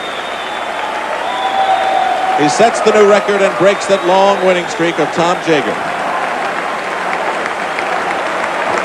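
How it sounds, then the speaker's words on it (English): A crowd at the Texas Swimming Center pool gives a standing ovation for swimmer Matt Biondi at the 1986 NCAA Swimming and Diving Championship: loud, sustained applause and cheering that swells and then fades under a commentator's talk. "A standing ovation for Matt Biondi from this crowd at the Texas Swimming Center."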